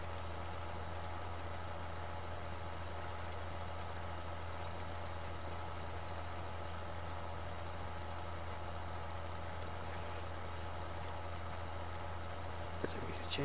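A farm tractor engine in the video game Farming Simulator 2013 drones at steady idle, a constant low hum that runs unchanged throughout with no breaks.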